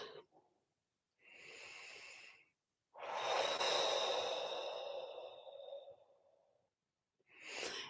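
Slow, deep breaths come close and alone: a shorter inhale, then a long, full breath that trails off gradually, followed by the start of another, with silent gaps between.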